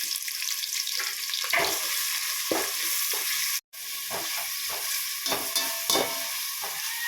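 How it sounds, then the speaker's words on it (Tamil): Steady sizzling of onions frying in a pan for chicken biryani, with repeated scraping and clattering strokes of a utensil stirring throughout, briefly cutting out partway. "அந்த வெங்காயத்தை சேர்த்து நல்லா வதக்கணும்."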